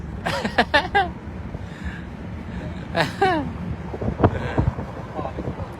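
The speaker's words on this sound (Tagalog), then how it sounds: "Ang lamig, grabe ng hangin." Gusty, cold wind buffets the microphone in a low, steady rush, with people talking and laughing over it and occasional bursts of louder blowing.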